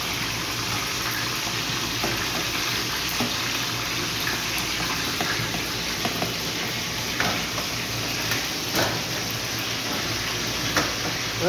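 Kebabs frying in already hot oil, a continuous even sizzle with faint crackles and small pops throughout, close and steady with no talking.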